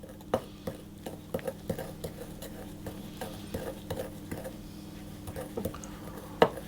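A utensil stirs lemon juice into a coconut bundt cake glaze, a run of soft rhythmic taps and scrapes against the bowl, quiet and close, with no talking.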